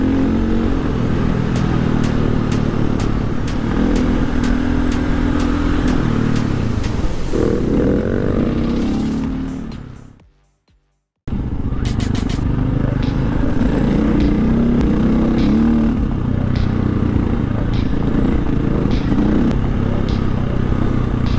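Dirt bikes, a KTM 450 and a Beta 350, race with continuous loud engine drone and revving plus clattering. The noise cuts out briefly midway, then resumes just as strong.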